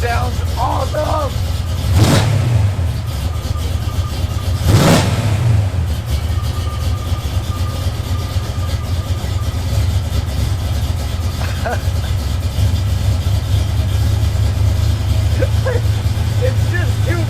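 A Mustang project car rumbles steadily at idle just after its first start, a deep, constant engine drone with a couple of brief louder bursts and excited voices talking over it.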